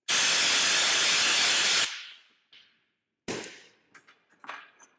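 A Snap-on Hi-flo air blow gun lets out one loud, steady blast of compressed air for nearly two seconds and then cuts off, followed by a few short, quieter bursts and faint clatter.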